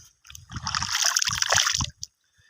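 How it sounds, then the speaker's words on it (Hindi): Clean water flowing through a village channel, splashing and gurgling in irregular close bursts over about two seconds before tailing off. "ये पानी आ रहा है,"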